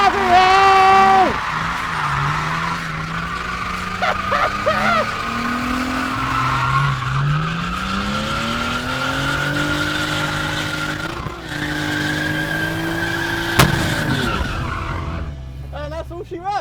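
An E46 BMW drifts at a drift school, its tyres squealing in long, wavering howls with the engine pitch rising and falling throughout, loud and close.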